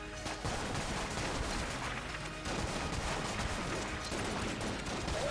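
Crit gun in Enter the Gungeon firing nonstop, a dense, loud barrage of rapid shots with a brief shift in texture partway through, no pauses.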